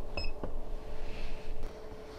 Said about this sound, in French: Comme le temps de déclenchement est supérieur à 300 millisecondes, l'alarme se met donc à sonner.